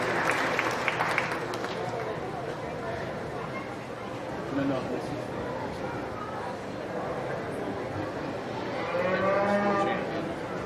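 A heifer moos at a county fair beef show during the Putnam County grand drive, a drawn-out low call heard near the end over a loud announcer, crowd chatter and scattered applause in a busy show ring.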